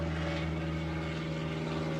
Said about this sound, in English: There is a very small plane that is right above us.